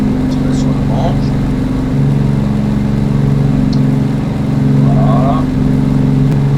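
Steady droning piston engines of a Grumman Goose on its takeoff run in Microsoft Flight Simulator 2020, a constant humming tone with slight shifts in pitch, someone speaking over it.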